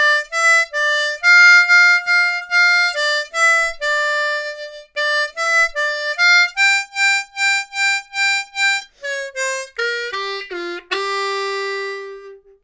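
Harmonica playing two blues lines in a lesson setting, a solo reedy tone moving through short repeated blues phrases, alone and close, with clear breaks between notes and a long held chord at the end.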